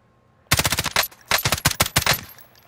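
Rapid automatic gunfire from the shooter game Warzone (Modern Warfare), two close, loud bursts of quick repeated shots separated by a short pause.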